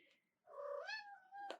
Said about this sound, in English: My kitty's yelling.